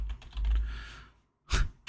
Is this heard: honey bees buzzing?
no